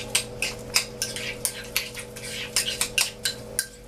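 A spicy tuna mixture is stirred in a bowl with a utensil, making a series of about a dozen sharp clinks and taps in an uneven rhythm over a low steady hum.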